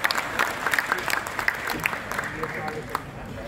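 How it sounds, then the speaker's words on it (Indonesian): A crowd applauds steadily with dense, continuous clapping at moderate loudness. "Tepuk tangan buat bangsa kita yang luar biasa."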